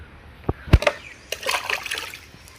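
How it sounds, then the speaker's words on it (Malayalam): Soaked raw rice washed by hand in water in a village kitchen, with close splashing and sloshing, a couple of hollow knocks of a vessel, then a swirling trickle of water. "നേരത്തെ വെള്ളത്തിലിട്ട് വെച്ച പച്ചരി നമ്മൾ കഴുകുന്നുണ്ട്"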